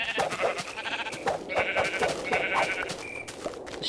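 Sheep in Minecraft bleat repeatedly in short, wavering calls, several overlapping at moderate loudness over a faint background bed, with no talking.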